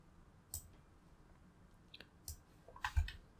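A few sharp computer mouse clicks, faint and close, scattered across a quiet stretch with a small cluster near the end, set during software setup on a PC.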